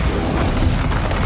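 A Bombarda spell explosion in Hogwarts Legacy makes a loud, broad, rumbling blast that fills the whole short moment with heavy low-end roar.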